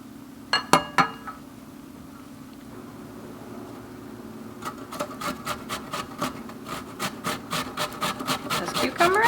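Cucumber being grated for tzatziki, a steady run of rasping strokes that starts after a few scattered clinks and grows quicker and louder toward the end, close up with a low hum behind.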